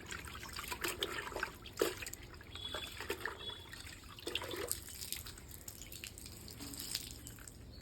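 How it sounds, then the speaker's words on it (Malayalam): Something is washed under a running tap, with water trickling and splashing into a sink and scattered louder drips and knocks over a steady faint flow. Nobody speaks. "അപ്പൊ നമുക്ക് ഇതൊന്ന് കഴുകിയെടുക്കാം."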